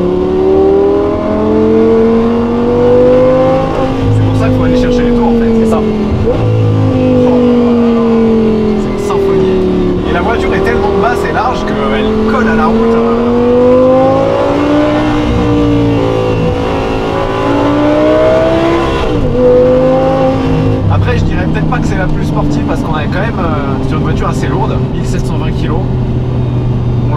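Audi R8 V10 supercar engine droning and rising and falling in pitch as it revs through the gears, loud and sustained throughout, with people talking over it.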